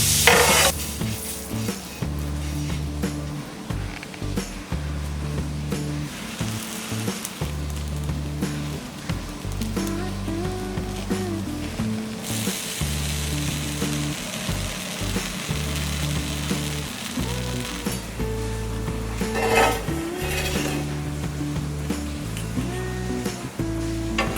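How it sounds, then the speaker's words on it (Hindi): A triple-layer ghughra sandwich roasts in butter on a hot pan, with a continuous close sizzle and frying crackle over background music throughout. "पैन गर्म हो गया है, अब हम इसमें डालेंगे ये बटर,"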